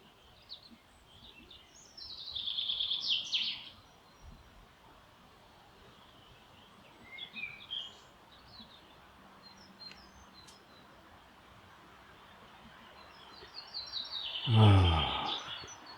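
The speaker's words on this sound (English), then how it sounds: "The birds are singing." Birds chirp in a garden full of hostas, with a brief burst of high calls early on and another louder flurry near the end over a quiet outdoor background.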